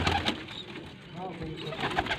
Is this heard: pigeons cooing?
yes